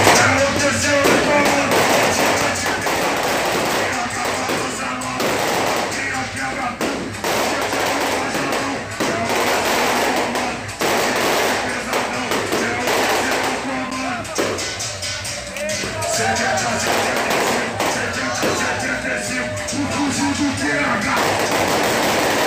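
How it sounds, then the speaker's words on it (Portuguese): Repeated sharp gunshots fired into the air ring out over a loud, noisy crowd at an event, with shots coming irregularly throughout. "Olha o que tem de arma nesse evento, dando tiro pro alto."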